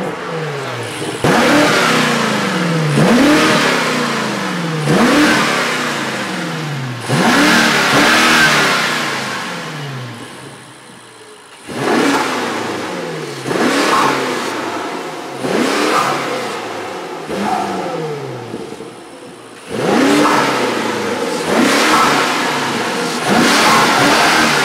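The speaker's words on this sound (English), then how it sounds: "Let's give it some revs." BMW F95 X5M V8 fitted with a carbon fiber Dinan intake, parked outside and warmed up, revved in repeated sharp bursts that rise and fall back, loud and close, several blips per group with short pauses between.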